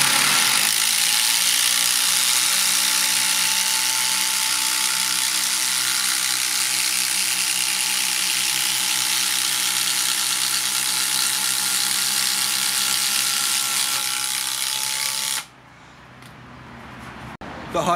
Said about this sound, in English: What about with the impact driver? We'll go drive a couple of 200mm 14 gauge batten screws,